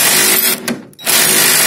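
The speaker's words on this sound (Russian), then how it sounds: "То есть держишь гайковерт и практически момент не ощущаешь закрутки" A Ryobi R18IW3 cordless impact wrench tightens a nut in loud, close hammering bursts, with a brief pause in the middle before the rattling drive resumes.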